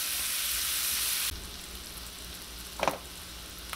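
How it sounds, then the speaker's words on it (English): Onions frying in a pan give a loud, steady broadband sizzle that drops sharply partway through to a quieter sizzle, followed by a brief scrape or stir, with no talking. "cook onions till they're soft, about 2 minutes"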